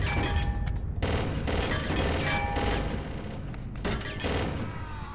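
Dense, continuous gunfire from the PC shooter game Chaser, rapid bursts and booms packed together at steady loudness, with brief breaks between volleys and no talk over it.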